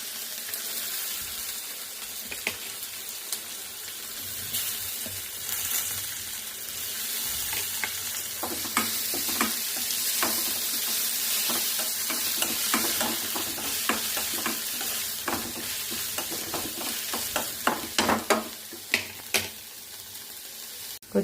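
Chopped chillies, green chillies and onions sizzle in a pan for a traditional curry, a continuous frying hiss broken by frequent scraping and clinking stirs that grow busier toward the end.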